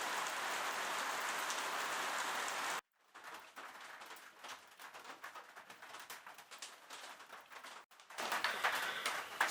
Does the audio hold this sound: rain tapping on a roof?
yes